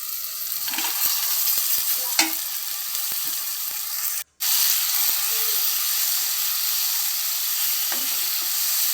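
Eggplant and drumstick pieces sautéing in oil with tomato for a village-style dried fish curry, a close, continuous sizzle with occasional stirring scrapes and a brief dropout partway through.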